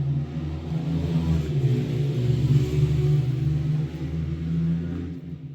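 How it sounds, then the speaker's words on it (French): Motorbikes and cars pass outside in a continuous low rumble, with the engine noise swelling and fading as the vehicles go by, heard through a wall. "j'ai gros bruit de motos et voitures qui passent, qui font plus de bruit qu'elles n'avancent"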